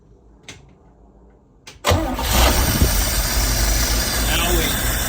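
An old 1968 Van Winkle engine cranks briefly and catches, roaring into a loud, steady close-up idle after a couple of faint clicks from the key.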